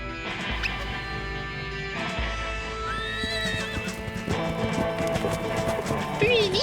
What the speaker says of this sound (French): Un cheval.